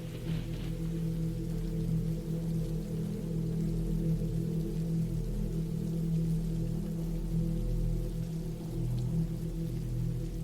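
Steady rain falling outside a cabin in the woods, a continuous dense low rushing wash at even volume with no pauses and no voices.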